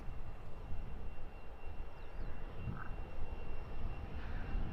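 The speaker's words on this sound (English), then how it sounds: "Back-to-back Ryanair departures." Ryanair airliners departing Luton Airport on an overcast day, heard as a steady, distant jet engine roar with broadband rumble throughout and no talk.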